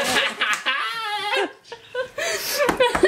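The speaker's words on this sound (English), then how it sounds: "You guys need another dog." A dog whimpers and yips in high, wavering cries, close and fairly loud, with people laughing and talking around it.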